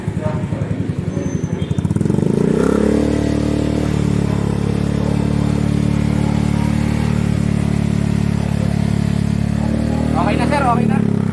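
Yamaha Fazzio scooter fitted with a VND pipe muffler, idling with a rapid putter before revving up into a steady, loud held drone; someone talks briefly near the end over the engine.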